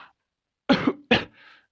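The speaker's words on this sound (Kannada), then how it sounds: "ನನಗೆ ಯಾಕೋ ತುಂಬ ಕೆಮ್ಮು ಬರ್ತಾ ಇದೆ" Two loud, harsh coughs from a cartoon character, close and separated by a short pause, followed by a faint wheezy trailing breath.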